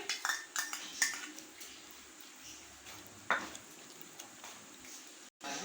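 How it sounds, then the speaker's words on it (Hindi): Metal spoon scraping and clinking against a kadhai as fresh malai (cream) is added for a chicken malai handi curry; a few sharp clinks and scrapes, fairly quiet, with no talk. "अब यहाँ से माँ जी इसको चम्मच की मदद से अब इस कढ़ाई में ऐड कर रही हैं।"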